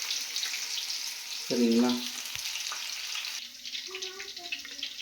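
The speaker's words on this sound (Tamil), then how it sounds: "அந்த இதை எடுத்து கபாப் போல் இப்படி எண்ணெயில் விட்டுக்க போகிறோம்" Okra kebab pieces fry in hot oil with a continuous sizzling hiss; someone speaks briefly over the frying, and a stirring clink follows.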